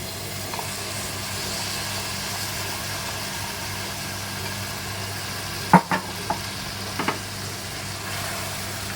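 Boiled moong and fenugreek being stirred into a masala in a pan, a steady low sizzling hum with a few sharp spoon knocks and scrapes clustered near the end.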